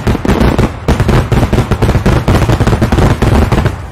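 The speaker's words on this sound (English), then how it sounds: "what if we made daytime fireworks?" Daytime fireworks that burst into multicolored smoke instead of glowing light, going off in a dense, rapid barrage of loud cracks and bangs that rattle on without pause for the whole stretch, with no voices.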